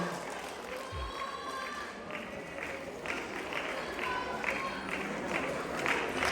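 A crowd claps steadily at a kids' dance competition prize distribution, a dense and even patter of many hands that holds through the whole stretch, with voices mixed in underneath.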